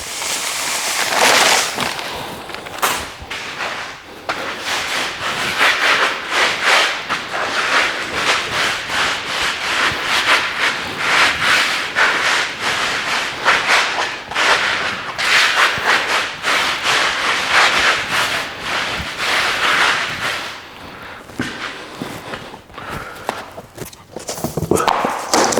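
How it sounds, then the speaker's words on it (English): Sand is rubbed hard and continuously across vinyl plank flooring in a scratch test, a loud, close, gritty scraping that keeps up for the whole stretch with no talking. "Sand test."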